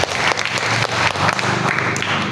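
A church congregation at an Indonesian morning worship service breaks into loud, sustained applause, a dense wash of many hands clapping together at close range that holds steady throughout.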